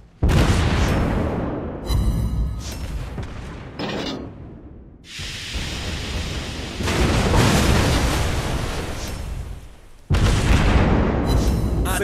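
Heavy booming naval cannon blasts from the destroyer Udaloi in a warship video game fire one after another, each a loud burst with a rumbling decay, about five shots with short gaps between.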